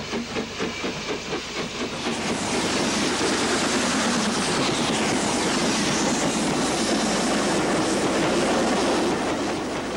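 A Black 5 steam locomotive labours uphill with a partially fitted freight train, banked at the rear by a Class 4 tank engine; a steady, loud roar of exhaust beats and rolling wagons with clattering rail noise, continuous throughout.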